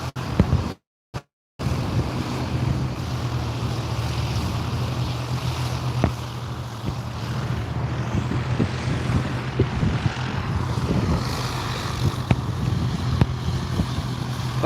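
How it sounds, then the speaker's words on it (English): A helicopter flies in the distance near an aerodrome, a steady low rotor drone running under outdoor wind and ambient noise for the whole stretch, fairly faint and with no talking. "just over the distance there, guys, we have got a helicopter"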